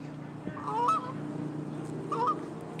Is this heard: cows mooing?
no